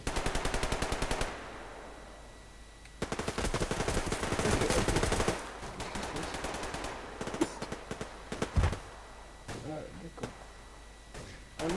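Gunfire in the video game Survarium rattles in rapid automatic bursts and scattered single shots, loud and close, with clicks and clatter between volleys and someone talking over it.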